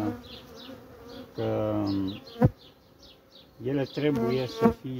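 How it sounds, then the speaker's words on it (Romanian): Bees buzz constantly nearby, their hum rising and falling, while someone speaks intermittently over it; the bees are irritated, during the merging of a honeybee colony. "Un pic sunt iritate aceste albine"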